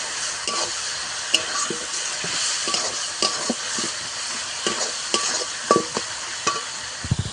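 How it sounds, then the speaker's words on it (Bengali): Chicken and ground spices with tomato, ginger and a splash of water sauté in a pan, a steady low sizzle punctuated by regular scraping strokes of a spatula, close and unaccompanied by speech. "এবার সব কিছু একসঙ্গে ভালো করে কষাতে হবে"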